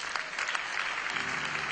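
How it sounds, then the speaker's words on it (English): Brief, fairly quiet applause from an audience honoring award winners at a presidential outreach awards ceremony in 2015, a steady crackle of many hands clapping with no voices. "I think they deserve an amazing round of applause."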